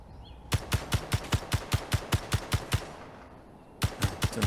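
Automatic turret in the Space Engineers video game firing a rapid burst of about a dozen sharp, evenly spaced shots, a brief pause, then a second short burst, loud and close with no talk.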